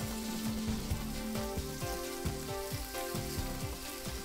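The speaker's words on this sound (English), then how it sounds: "that's sizzling on the frying pan" Lean meat sizzles and crackles steadily in a frying pan during stir-frying, a close, continuous hiss heard beneath a rhythmic musical pattern.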